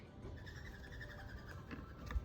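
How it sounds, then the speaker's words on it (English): Birds calling outdoors, a steady series of high, repeated chirping calls running through the whole stretch, fairly faint over a low rumbling background. "got some birds up there"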